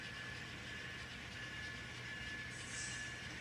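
An N scale model train rolls out along a layout with a steady, faint rolling hum and a brief higher squeal near the end. No one speaks.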